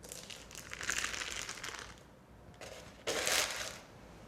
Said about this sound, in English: and carefully peel off the lining.